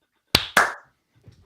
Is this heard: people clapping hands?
yes